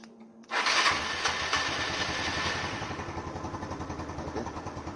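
A motorcycle engine cranked with its electric starter catches after a short silence, then settles into a loud, close idle with a steady, pulsing rhythm.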